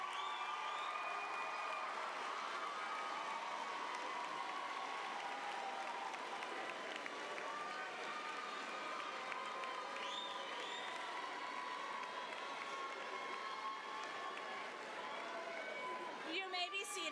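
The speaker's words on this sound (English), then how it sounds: "give a round of applause to your family and friends who have supported you" A crowd at a graduation ceremony applauds and cheers in a long, sustained wash of clapping, moderately distant and steady, with shouts and voices mixed in and some louder bursts near the end.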